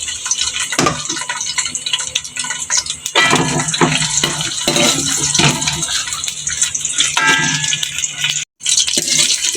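Chopped onions fry in hot ghee over a low flame for a spiced potato and capsicum dish, producing a loud, continuous close-up hiss and crackle that cuts out briefly near the end.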